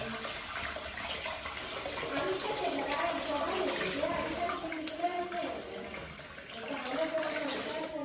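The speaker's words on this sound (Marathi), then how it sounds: "आता पाणी आपल्याला जेवढं पाहिजे तेवढं पाणी टाकायचं फक्त." Water is poured into a cooking pot for Maggi noodles in a home kitchen in Konkan, a steady splashing stream lasting about eight seconds at moderate loudness, with faint voices in the background.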